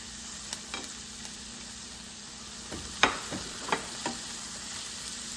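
Capsicum sautéing in a pan for veg Manchurian, a steady soft sizzle with a few sharp scraping stir strokes from a utensil near the end, close and without talk.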